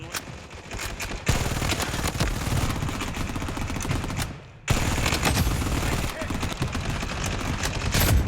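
Rapid automatic gunfire in a shooting video game, sustained bursts with a brief pause midway, loud and dense, with a voice speaking over the action.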